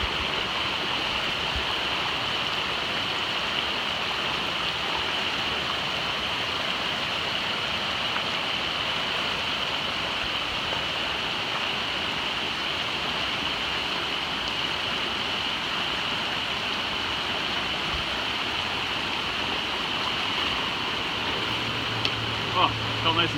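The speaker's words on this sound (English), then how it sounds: "It doesn't get too deep if you stick to the edge of the rocks, but the current's really strong." A strong stream current rushes over rocks on a hiking trail, a loud, steady broadband roar of water that runs unbroken throughout.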